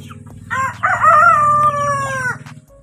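Rooster crowing once near a village farmyard, a drawn-out cock-a-doodle-doo over a low background hum.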